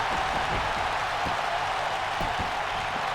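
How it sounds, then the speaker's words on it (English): A wrestling show crowd claps in a steady, dense wash of applause heard from inside the arena, with no voices standing out above it. "Trying to get the crowd clapping."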